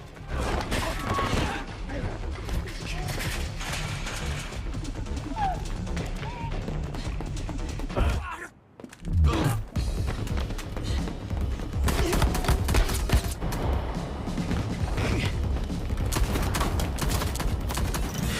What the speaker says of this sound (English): Panicking, Hiro flees, killing several officers as bullets bounce off his metal body.